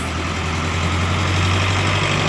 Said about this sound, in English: I'll wait till the tractor goes by. Said tractor and trailer.